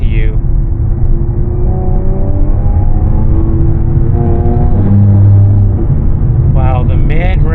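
Tuned Jaguar F-Type V6 with a Stage 1 tune pulling hard in fifth gear from about 4,000 rpm, a loud steady engine drone heard from inside the cabin with a voice speaking over it.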